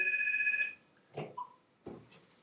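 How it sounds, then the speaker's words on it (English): A telephone rings with an incoming call during a basketball talk show, a short electronic trill at the start followed by a few faint clicks and knocks in a quiet room. "I got a phone call. Can you believe that in the middle of the show?"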